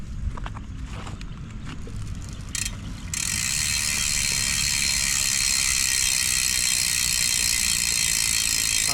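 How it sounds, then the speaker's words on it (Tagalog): A Labici Aprio MTB hub with a four-pawl freebody and sealed bearings on a 2020 Mountainpeak Ninja rigid mountain bike, clicking fast and steadily while the wheel freewheels, close up with a loud continuous buzz and no talking. "yun yung tunog ng Labici Aprio MTB hubs kapag naka-free wheel"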